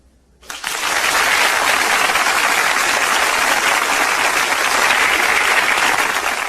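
A crowd breaks into loud, sustained applause that starts abruptly and holds steady for several seconds.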